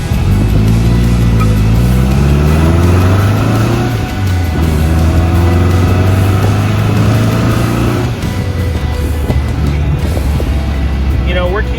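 A 1959 Triumph TR3 sports car engine revs and pulls strongly under steady acceleration, loud and close, with the pitch climbing through the gears and no voices.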